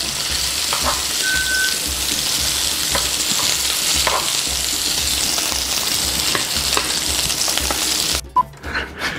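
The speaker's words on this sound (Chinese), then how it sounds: "煎好之后直接把它丢进去酱汁里面。" Meatballs fry in a pan for a Ratatouille-inspired Italian meatball sub, a steady loud sizzle with scattered crackles and spatula scrapes running throughout before it cuts off abruptly near the end into a few quieter clinks.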